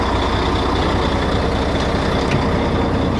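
Volvo 780 truck engine runs steadily at idle, a loud, dense low rumble that holds unchanged throughout with no voices.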